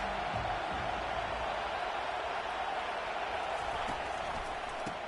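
Stadium crowd noise from the College Football 25 video game during a Clemson at Georgia matchup, a steady broad roar of a packed home crowd that holds constant throughout with no talk over it.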